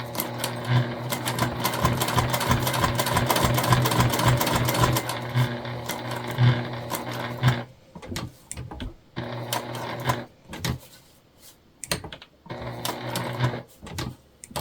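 A sewing machine stitches a Piper ID holder in a fast continuous run, then breaks into short stop-start bursts of back stitching, loud and close with no talk.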